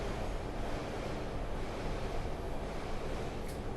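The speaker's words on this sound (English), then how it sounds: "Pause for the train." A passing train heard as a steady, loud broadband rumble and roar that fills the whole stretch without a break, with no talk over it.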